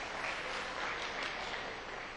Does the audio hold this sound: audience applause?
yes